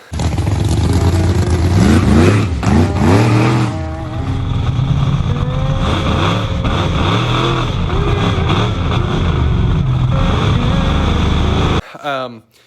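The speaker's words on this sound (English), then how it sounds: "If you hear me get on the throttle twice, like whop, whop, I didn't mean to do that." A procharged Pontiac GTO engine roars loud and close, revving hard on the throttle with rising and falling surges before cutting off abruptly near the end.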